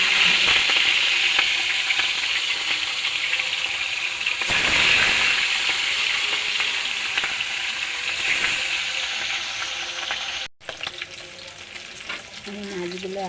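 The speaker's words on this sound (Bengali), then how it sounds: "তেলটা হয়ে গেছে, আমি মাছগুলো দিয়ে দিই এক এক করে" Fish frying in hot oil in a wok gives a loud, continuous sizzle and crackle, close up, with a short break near the end before the hissing resumes.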